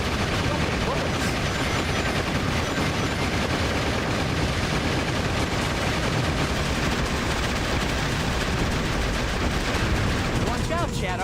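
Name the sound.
tank firing bullets in video game Shadow the Hedgehog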